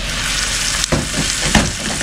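Labong bamboo shoots cooking dry in a pan without water give a steady, loud sizzle and fry hiss, with a couple of brief stirring scrapes breaking through.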